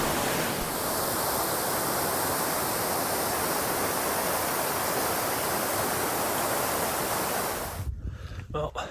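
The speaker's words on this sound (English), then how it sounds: "there's the water running down the trail that I'm heading up" Rainwater running down a hiking trail on the Appalachian Trail between Erwin and Elizabethton, a steady, close rushing wash that holds evenly for about eight seconds, then cuts off abruptly to quiet.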